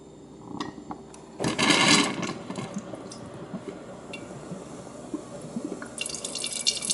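Water flushed through a new refrigerator water filter gushes and trickles into a container, with a louder splashing burst early on, then steady dripping and running water.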